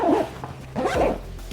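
The zipper on the outer pocket of a camera bag is pulled in two quick, rasping strokes with a brief pause between them, close up and with no talking.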